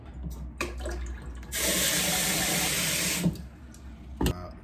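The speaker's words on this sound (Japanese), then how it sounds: "頑張って洗い物します。" Water runs from a kitchen tap into a sink while dishes are washed, a steady broadband rush for about two seconds with occasional clinks and knocks of dishware before and after.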